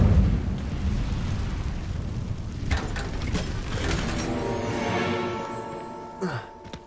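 Incendio fire spell in Hogwarts Legacy, cast as a whooshing, crackling burst of flame that roars steadily for several seconds and ends with a brief sharp flare near the end.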